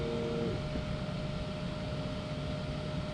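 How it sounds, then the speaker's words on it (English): Steady whirring hum of the cooling fans on a Creality CR-6 SE 3D printer, mostly from the cooler on its underside, running continuously at a low, even level with no voices. "most of that fan noise you're hearing from down here on the cooler on the bottom"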